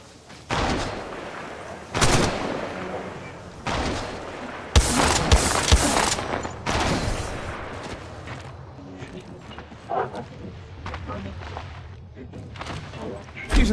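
Gunfire in the mobile battle royale game Apex Legends Mobile: loud bursts and sharp shots in clusters across the clip, mixed with thuds and other game sounds, with a voice speaking at times.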